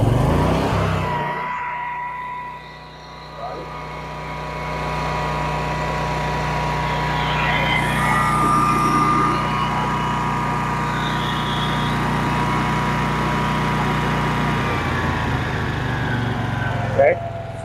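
Westinghouse WGen20000 portable generator engine cranking to life after choking, then settling into a loud, steady, close running drone with a faint spike near the end.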